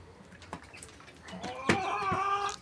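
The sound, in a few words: rooster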